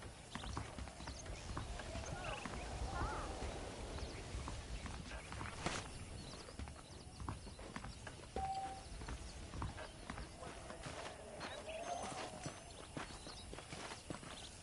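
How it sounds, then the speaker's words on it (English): Horses' hooves clip-clop steadily at a walking pace in the Red Dead Redemption video game, a continuous rhythmic clatter of several animals close by, with faint voices and ambient outdoor sounds underneath and a brief whinny-like tone midway. "The horses are saddled up over here."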